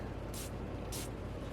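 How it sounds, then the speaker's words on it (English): Coconut perfume sprayed onto a book, two short breathy spritzes about half a second apart over a constant low background hum. "Let me not spray my hand this time. Okay, spray the book."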